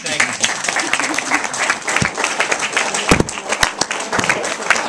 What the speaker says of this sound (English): Can I get just a quick clap?